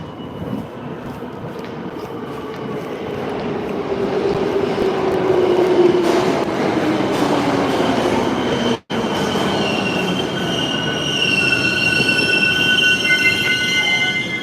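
A train passes close by, its wheels squealing in drawn-out metallic tones over a rumbling clatter, with a brief dropout partway through before the high squeal returns.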